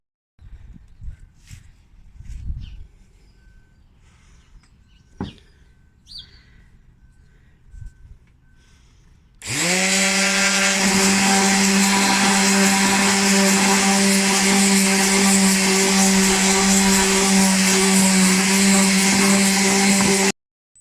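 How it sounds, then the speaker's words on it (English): Handheld electric sander on wooden log slices starts up halfway through after quiet shuffling and taps, then runs as a loud steady whirring drone with a buzzing hum until it cuts off. "So I've got a handheld sander which I'm going to give a go and give them a sand."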